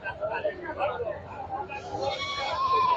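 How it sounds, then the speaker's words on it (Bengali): Pati goats bleating at a busy goat market, a few calls rising over a steady murmur of people talking nearby. "খালি ছাগল আর ছাগল"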